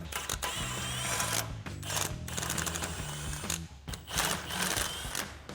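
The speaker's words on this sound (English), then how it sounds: "we're gonna disconnect our U-bolts so we have our impact and 21 millimeter socket, and we'll take all four nuts off" An impact wrench with a 21 mm socket spins U-bolt nuts off an F-150 during a leveling lift install, making repeated loud bursts of whirring and rattling with brief pauses between them.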